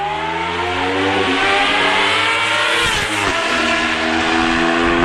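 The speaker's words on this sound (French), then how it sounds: "mais il y a des motards qui se font des runs." Motorcycles running hard along an open road, a loud, steady engine roar with rising and falling pitch as a machine passes close by midway, then continues to drone.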